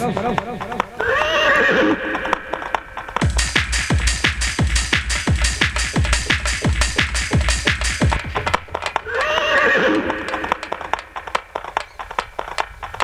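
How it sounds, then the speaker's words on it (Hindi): A horse whinnies, then a fast run of loud, evenly spaced galloping hoofbeats follows before another neigh, used as a sound effect within a devotional Hindi story narration with a voice present. "जिस समय घोड़े को दौड़ाया"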